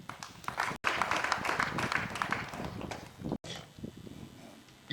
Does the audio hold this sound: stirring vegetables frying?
no